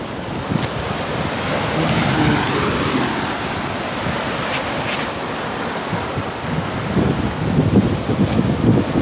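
Continuous roar of sea waves mixed with gusting wind buffeting the microphone at the seashore, loud and steady throughout.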